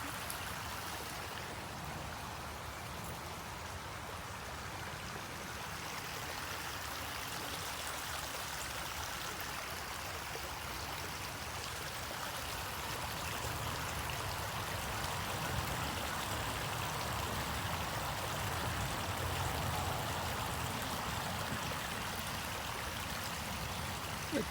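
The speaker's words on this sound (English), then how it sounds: "You like the sound of the water?" A woodland stream at Antrim Lake Park in Columbus, Ohio flows in a steady, unbroken wash of water, close and even throughout with no voices.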